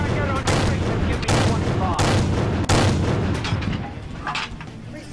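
Heavy tank gun shots in World of Tanks, several booming blasts in quick succession over a dense rumbling battle backdrop, fading somewhat toward the end.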